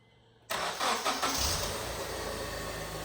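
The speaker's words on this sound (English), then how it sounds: "I'm just going to start the engine up" An older Honda Accord project car cranks briefly and catches after a half-second of near silence, then settles into a steady, fairly loud idle close by.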